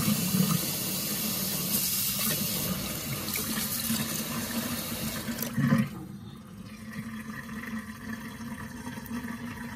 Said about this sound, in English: Let the water drain away.